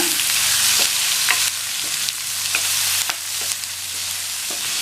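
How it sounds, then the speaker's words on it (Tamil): Fried onion and boiled, drained elephant yam get stirred in a hot pan, a steady sizzle broken by a few sharp scrapes of the spoon, close and fairly loud with no talking. "சேர்த்துட்டு நல்லா மிக்ஸ் பண்ணி விட்டுக்கோங்க."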